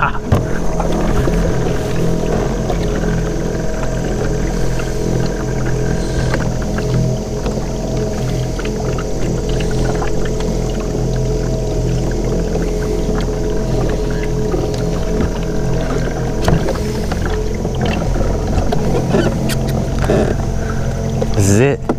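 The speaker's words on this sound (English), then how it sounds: "Steer it with the rudder system or this motor. Let's make it go fast." Custom trolling motor driving a FeelFree lure kayak fast across the water, a steady motor whine and hum mixed with water rush and wind, continuous and fairly loud throughout.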